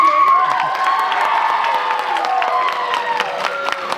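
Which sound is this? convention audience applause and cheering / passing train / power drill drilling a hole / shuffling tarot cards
convention audience applause and cheering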